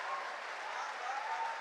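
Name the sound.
audience applause at a poetry recital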